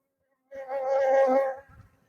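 A single honeybee buzzing near a hive, one close, brief droning hum lasting about a second before fading, with no talk.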